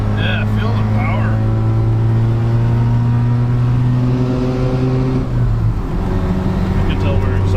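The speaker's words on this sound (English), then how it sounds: "You can tell we're accelerating and just going through the clutch again." A rotary-engined pickup truck accelerating through the gears, with a loud, smooth, steady engine drone heard from inside the cab that dips briefly at a clutch shift before building again.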